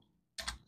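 A single crisp keystroke on a computer keyboard sounds close and clear after a near-silent pause.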